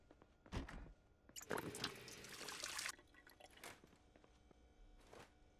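A character drinks water in the survival game Project Zomboid, heard as a few close watery splashes and a longer burst of running liquid, then quieter drips.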